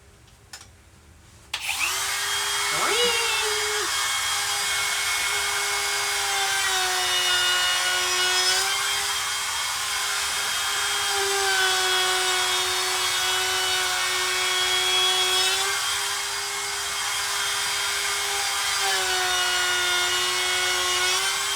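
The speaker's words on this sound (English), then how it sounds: "So I'm gonna put the chamfer on this one real quick before I forget" A router cuts a chamfer along the edge of an epoxy and wood plate, starting abruptly and then whining steadily with slight shifts in pitch as it moves along the edge, loud and close with no talk.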